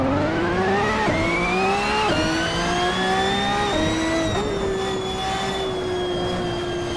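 Ferrari 599XX EVO racing car in the video game Assetto Corsa, a loud continuous engine wail climbing through rising gear pulls with abrupt pitch drops at each upshift, tires faintly squealing underneath.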